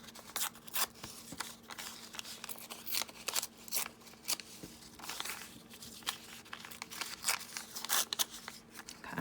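Avocado-dyed paper being folded in half, giving close, soft crinkling and rustling with sharp creasing snaps scattered throughout, quiet and without talking.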